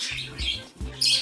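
A parrot named Kingsley giving short harsh squawks indoors, two or three quick bursts in close succession, near and fairly loud.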